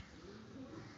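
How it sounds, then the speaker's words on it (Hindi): Soft, low pigeon cooing, a brief throaty warble heard quietly and close. "ये देखो वजूद देखो जी कबूतरों का"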